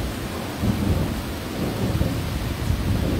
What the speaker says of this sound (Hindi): इतने जोर की बिजलियां कड़क रही हैं